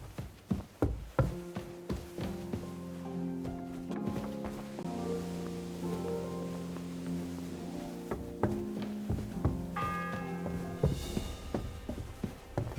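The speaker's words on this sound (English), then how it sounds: "The sixth bell." Bell tolling the sixth hour in Kingdom Come Deliverance II, heavy resonant strikes ringing out with long humming overtones that overlap and decay, mixed with scattered knocks and footstep-like thuds throughout.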